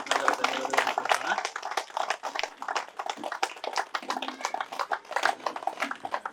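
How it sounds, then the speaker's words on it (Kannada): An audience at a pyramid chamber opening ceremony in Somusamudra, Ballari claps together in thanks, a dense run of quick overlapping hand claps close by, mixed with some talk. "ಪಿತಾಮಹ ಬ್ರಹ್ಮರ್ಷಿ ಸುಭಾಷ್ ಪತ್ರಿಜಿಯವರಿಗೆ ಒಂದ್ಸಲ ಜೋರಾಗಿ ಚಪ್ಪಾಳೆ ಹೊಡೆಯುವುದರ ಮುಖಾಂತರ ಧನ್ಯವಾದಗಳನ್ನು ತಿಳಿಸೋಣ"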